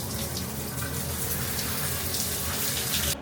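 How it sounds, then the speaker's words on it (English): Shower water spraying steadily onto car engine parts being washed, from a Mercedes C63 AMG Edition 507 engine rebuild, a dense continuous hiss and patter with no pauses, close and fairly loud. "Washing parts in the shower."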